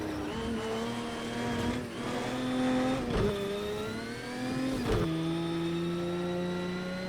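A Lamborghini in a racing video game drives through dirt in second gear. Its engine drones loudly and continuously, with pitch rising and falling as it shifts and revs, and there is no speech over it.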